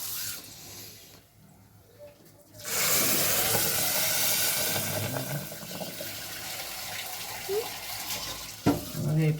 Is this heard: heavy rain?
no